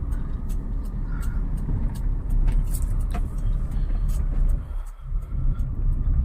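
A car moves slowly through a narrow lane during a driving lesson, turning with the brakes held. A steady low engine and road rumble fills the cabin, with a few faint clicks and a brief dip near the end.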